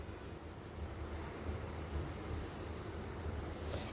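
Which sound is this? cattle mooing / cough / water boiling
water boiling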